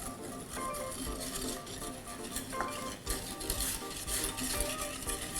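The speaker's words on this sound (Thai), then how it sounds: "คนให้เข้ากันค่ะ" Utensils scrape and clink against a pot while hot liquid for matcha green tea jelly is stirred, a steady busy churning with light metallic taps throughout.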